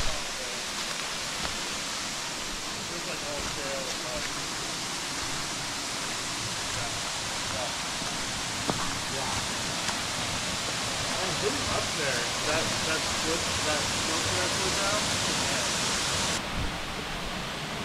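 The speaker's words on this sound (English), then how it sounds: "It has been beautiful waterfall here." Steady broadband rush of a waterfall in Clifty Canyon, Sipsey Wilderness, Alabama, a constant roar filling the whole clip at even loudness with no distinct events.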